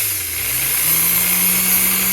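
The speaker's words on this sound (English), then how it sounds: "And if I run the drill," A corded electric drill runs steadily on a power-meter test bench, its motor giving a continuous high whine and hum that rises slightly in pitch as it spins up, loud and alone without talk.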